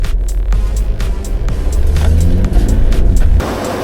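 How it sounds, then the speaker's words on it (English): A burgundy red 2017 Mitsubishi Pajero Sport drives along with a loud, close engine rumble and road noise, rising slightly in level before easing off near the end. "It's a 2017 Mitsubishi burgundy red soccer mum car."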